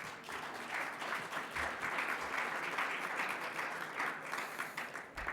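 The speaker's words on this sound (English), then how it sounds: "So please a round of applause for them." An audience applauds continuously, a dense wash of many hands clapping at moderate volume that tapers slightly near the end.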